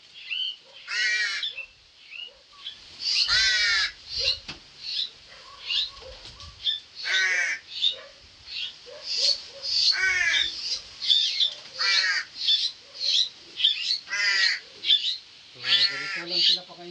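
Several crows caw while they are being fed, giving loud, harsh calls close by in irregular bursts that sometimes overlap. Softer rustling sounds between the calls, and faint low sounds come through now and then.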